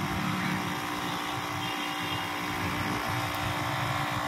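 A tyre inflator machine runs steadily to pump air into a car's tubeless tyre, giving a constant, loud motor drone with a dense hum that holds without a break throughout.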